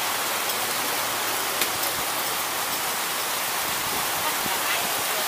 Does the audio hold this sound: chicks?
no